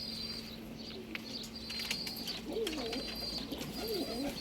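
Pigeons coo softly in repeated low phrases, with brighter chirps and whistles from other birds around them, fairly faint and a little distant.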